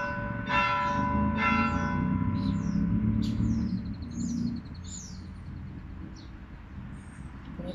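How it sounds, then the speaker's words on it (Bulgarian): A meditation bell rings during a breathing exercise: two clear resonant strikes close together near the start, then a long fading hum, with small birds chirping in the background. "Оставете камбанният звън."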